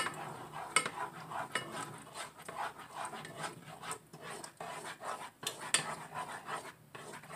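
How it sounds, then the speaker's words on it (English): Metal spoon stirring thickening gravy made with bacon fat or lard in a pot for a pot pie, with soft scraping and clinks in an irregular rhythm, fairly close but quiet and without any talking. "Going to keep stirring and cooking, and the gravy will get thicker as it cooks."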